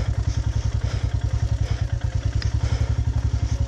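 A motorcycle engine being worked down a steep, rough, rocky mountain trail on a solo ride from Tawang to Madhuri Lake in Arunachal, chugging in a steady rapid low throb with clatter and thuds, close and loud with no talk.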